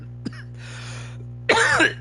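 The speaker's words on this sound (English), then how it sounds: "I'm still suffering from a allergy cough." A person with an allergy cough coughs sharply once, then after a pause lets out a louder, harsher cough burst, close to the microphone over a steady electrical hum.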